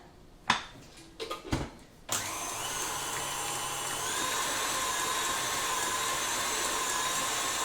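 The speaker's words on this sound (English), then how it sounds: "I'm going to just turn the mixer up then" An electric stand mixer switches on after a few clattering knocks and runs loud and steady at high speed, whining and whirring on its own while creaming a blondie batter with icing sugar.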